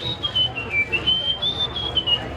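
A person whistles through the gap in their teeth, imitating a bird's contact call: a thin, high, wavering tone in short, repeated pulses, close and clear.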